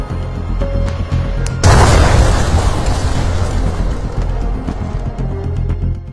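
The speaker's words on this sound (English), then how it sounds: "Once it hits the ground, the bunker buster pierces straight through the hardened surface." A bunker buster bomb striking the ground sets off a sudden loud boom that swells into a long, rumbling roar and slowly fades beneath a continuous low background.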